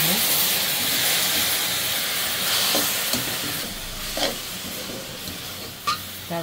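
Vermicelli frying in a pan with sugar and liquid milk gives a steady, loud steaming hiss, broken by a few soft clinks and scrapes of stirring.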